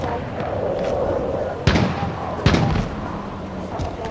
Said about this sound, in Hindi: उसने कोई मिसाइल छोड़ी है